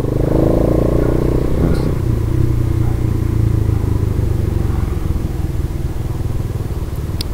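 A ten-year-old Motorstar motorcycle drones steadily while riding along a road route in Cavite, with loud close engine hum and rushing wind noise throughout.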